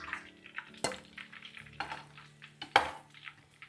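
Double-fried mushroom pakodi being lifted out of a pan of hot oil, with scattered metallic clinks and scrapes of a utensil against the pan and a faint sizzle beneath, two sharper knocks standing out.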